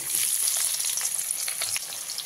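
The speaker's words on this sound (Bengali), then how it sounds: "পেঁয়াজটা দিয়ে খুব ভালো করে পেঁয়াজটাকে লাল লাল করে ভেজে নিতে হবে" Thinly sliced onions sizzle and fry steadily in hot oil spiced with cinnamon, cloves and cardamom for a Bengali katla fish kalia, a continuous close crackling hiss with occasional stirring, no voices.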